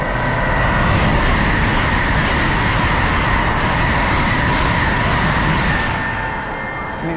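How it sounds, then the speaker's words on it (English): Great Western Railway train running through a station, a loud, sustained rumble and rushing roar with a steady high tone on top, fading slightly at the end. "Also passing through, I think we've got a Great Western Railway service to Swansea."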